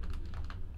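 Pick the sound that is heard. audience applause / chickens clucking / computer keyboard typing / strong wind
computer keyboard typing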